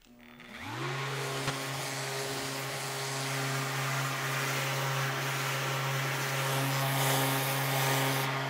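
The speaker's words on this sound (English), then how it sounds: "I'm going to lightly sand each face using an orbital sander" An orbital sander spins up and then runs steadily while lightly sanding laser-charred white oak plywood, giving a loud, continuous motor whine over a broad abrasive hiss.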